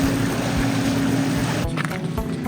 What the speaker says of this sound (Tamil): speed boat